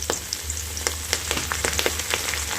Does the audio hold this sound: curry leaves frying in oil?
yes